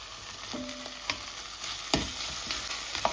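Ginger garlic paste fries in a pan for prawn curry, a close, steady sizzle broken by several sharp clicks and scrapes of a spoon stirring against the metal.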